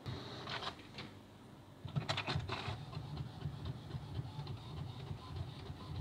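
An HP Deskjet GT 5820 inkjet printer runs a document job, giving a steady mechanical whir with a louder burst of rattling carriage and paper-feed clatter partway through, heard close and with no talking.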